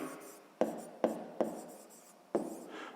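A pen or pencil writes on paper while working a sixth-grade maths exercise, giving four sharp taps spaced across a few seconds, each followed by a brief scratchy trail, close and quiet.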